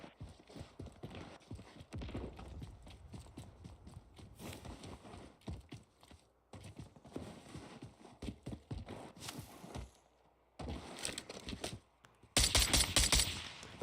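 Gunfire in Call of Duty Warzone, several shots in bursts among footsteps, movement and other game sounds, with a sharp loud burst of fire near the end.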